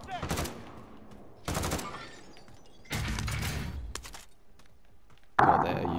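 AK-47 bursts in a first-person shooter video game, several separate volleys of rapid automatic fire with short gaps between them, fairly loud, followed by a sharp impact.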